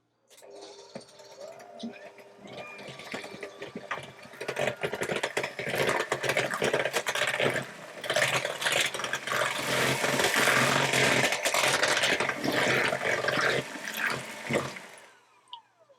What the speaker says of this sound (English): And I'm going to give that a good whisk through.